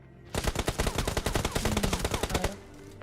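Rapid automatic gunfire in a video game, a dense burst of about twenty sharp, evenly spaced shots over two seconds, loud and close, with no talk over it.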